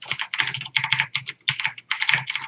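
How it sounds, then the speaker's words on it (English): Rapid typing on a computer keyboard in bursts of clattering keystrokes, fairly close and steady with brief pauses between runs, no talking over it. "Steve, your audio is breaking up a little bit, I think. It's because you're typing"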